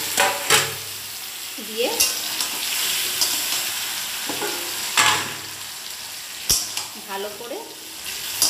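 Marinated chicken and fried potatoes sizzling in oil in a pan for Bengali chicken kosha, with a steady fry under sharp scraping stirs at intervals and brief speech.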